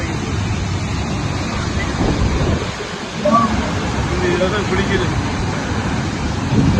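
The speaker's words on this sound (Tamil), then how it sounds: "பாலருவியுடைய தண்ணீர் பார்த்தீங்கன்னா இங்கேருந்து வருது இங்கே வந்து இவ்வளோ விழுது" Water tumbles at the Palaruvi waterfall in a broad, steady roar with gusts of wind hitting the microphone, and voices talk over it.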